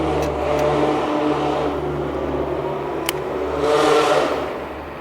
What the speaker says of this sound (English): You can rap at a throttle and hear it ricochet.